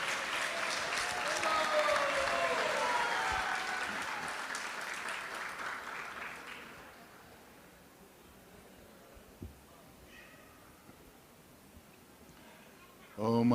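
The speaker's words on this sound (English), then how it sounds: "with a huge, huge round of applause" An audience at a Sunday program breaks into loud, sustained applause welcoming Guru Das Prabhu. It thins out over several seconds into scattered claps and quiet, ending with a sudden burst of noise.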